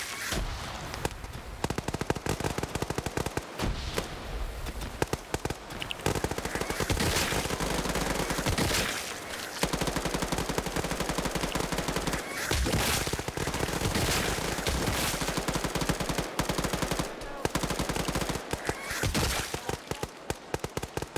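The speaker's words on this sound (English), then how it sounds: "I think Bane just got shot in the back of the head" Sustained bursts of automatic machine gun fire in a military video game, loud and near, rattling almost continuously for about twenty seconds with a few brief gaps.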